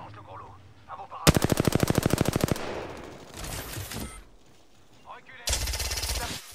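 Rapid machine-gun bursts fire at the player in a video game, one long rattling volley followed by further loud, close bursts, separated by quieter gaps of game noise.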